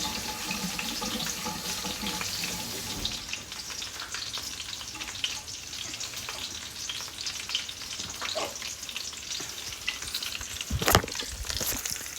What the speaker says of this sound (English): the sausages are nearly cooked, almost cooked